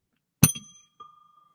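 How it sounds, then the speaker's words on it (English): A bell on a sports-talk show desk is struck twice: a sharp, bright ring that sustains and fades, then a softer second ring about half a second later, close and alone. "Ring the bell."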